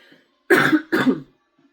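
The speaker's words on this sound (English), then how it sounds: "It's turned into an actual really tickly cough." Two harsh chest coughs from a person with a chest infection, in quick succession, close and loud, followed by silence.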